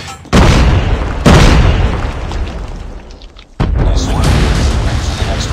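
Frag grenade explosions in Call of Duty, three heavy booming blasts with long rumbling decays, the second and third a couple of seconds apart, loud and close, no talk.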